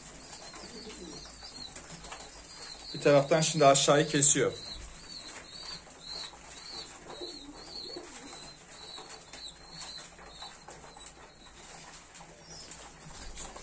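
Pigeons coo softly at feeding time, with a sudden burst of wing flapping early on and a faint rhythmic cooing afterward, while someone speaks over them.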